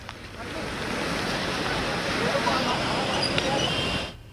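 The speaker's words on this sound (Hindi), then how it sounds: "भोपाल में सुबह से तेज बारिश का दौर जारी है।" Heavy rain pours down in Bhopal over waterlogged streets, a dense, steady roar of loud wash that holds throughout and drops away at the very end.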